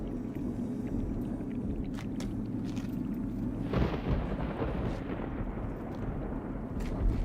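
Thunderstorm ambience in the video game Myst IV: Revelation: a steady low rumble of rain and wind with a louder roll of thunder around the middle, continuous and enveloping, with no talk.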